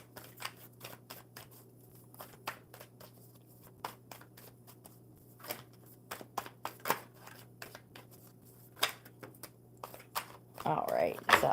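A deck of playing cards is handled at a table during a live coffee-and-cards stream: sparse crisp clicks and snaps recur over a low steady hum, then a denser riffling burst comes near the end.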